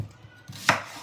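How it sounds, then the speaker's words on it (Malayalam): A single crisp knife chop through onion on a cutting board, a sharp close thud standing out from quiet kitchen background. "സോ നമ്മുടെ ഓണിയൻസ് കഴുകി ജസ്റ്റ് ഒന്ന് കട്ട് ചെയ്തിട്ട് ഇടാം."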